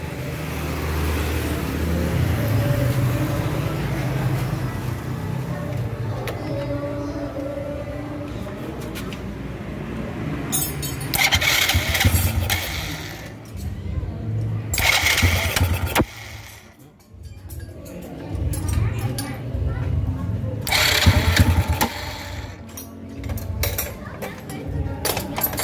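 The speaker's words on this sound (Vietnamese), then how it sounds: "Đầu tiên mình sẽ đề nổ máy cho anh em xem nha." Motorcycle engine cranked and started, then running with uneven, jerky revs from a weak ignition, heard close up; several sharp metallic bursts, and someone talks over parts of it.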